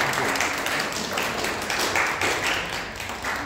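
A church congregation applauding steadily in a dense, sustained wash of clapping that holds for a few seconds without pause.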